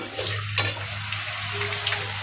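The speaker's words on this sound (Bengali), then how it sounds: "আর এদিকে আমি কড়াই চাপিয়ে দিয়েছি আলু ভাজা।" Potatoes sizzle and crackle in hot oil in a wok, a steady frying hiss with an occasional stir, close up and alone.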